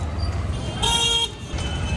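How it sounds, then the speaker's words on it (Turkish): A car horn blares for about half a second amid steady street traffic rumble in India, loud and close. "Şu korna işi mükemmel gerçekten."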